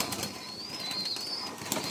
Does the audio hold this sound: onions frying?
no